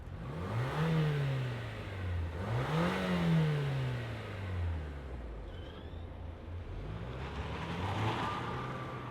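A 2025 Toyota Grand Highlander XP SUV engine revs up and falls back twice in smooth swells, then settles into a steady, moderately loud drone with wind-like rushing noise.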